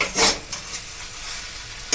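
Homemade cooked chicken is tossed into chicken chowmein in a pan: a spatula scrapes and turns the noodles over a soft sizzle, with a louder scrape near the start, close by and with no talking.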